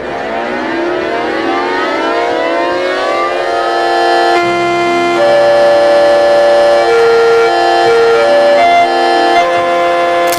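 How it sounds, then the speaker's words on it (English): A Yamaha Music Siren plays a loud, sustained tone that rises and holds across several steady pitches, with sharp pitch shifts partway through. It sounds alone, with no voices. "Yamaha Music Siren."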